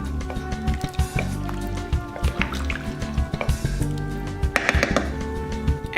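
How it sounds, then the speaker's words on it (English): Canned Rotel tomatoes splash and glug into water in a slow cooker for charro beans, a busy close run of wet drips and squishy plops. "we're going to add 1 can of Rotel Tomatoes. We're going to get this stirred up."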